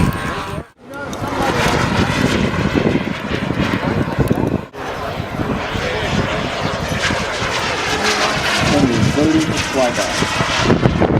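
A P-34C propeller aircraft on approach during a flyby, its engine drone loud and sustained with a short dip partway, while a voice talks over it.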